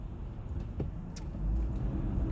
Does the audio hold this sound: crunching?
no